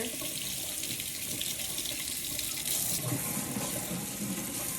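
Cool to lukewarm water runs from a tap into a sink for washing a wig, a steady, close rushing and splashing flow that never pauses, with no speech.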